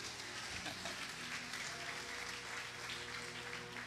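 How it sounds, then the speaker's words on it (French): A church congregation applauds during a French-language evangelical sermon, a dense, steady wash of many hands clapping at once that fills the whole clip with no break. "S'il vous plaît, applaudis. Bon, bon temps pour applaudir."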